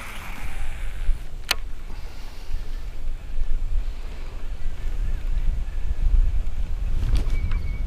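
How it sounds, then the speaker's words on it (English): Loud, gusty wind buffets outdoors over open water, a steady roar with brief clicks and a short voice fragment near the end. "it's getting really windy out here"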